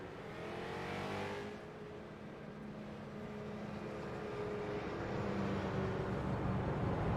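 Pro-Am street stock race cars circle the track under caution, a fairly distant, steady engine drone that swells slightly near the start and again toward the end, with no commentary.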